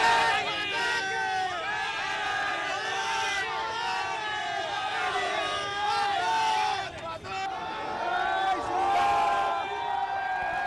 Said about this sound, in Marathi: नागपुरातील लक्ष्मी भवन चौकातला हा जल्लोष आपण बघू शकतो